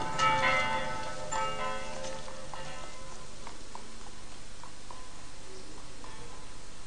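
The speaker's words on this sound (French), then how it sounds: "Écoute, les cloches sont les mêmes." Church bells of a hometown pealing, bright clanging strikes that ring out at first and then thin into softer, sparser tolls over a continuous wash of ringing, with no voices.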